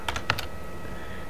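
Computer keyboard typing a password for a software update on an Ubuntu server: a few quick clustered keystrokes near the start, then quiet room tone.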